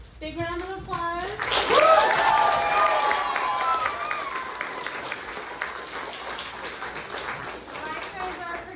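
Applause fills a school theater after a student Twelfth Night performance, a dense sustained patter from the audience with children's voices and cheering mixed in throughout.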